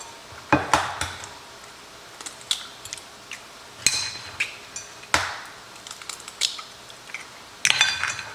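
Eggs cracked against a bowl and whisked while a freezer batch of breakfast burritos is prepared: scattered sharp taps and clinks of shell and utensil on the bowl, irregular and close, with quiet gaps between.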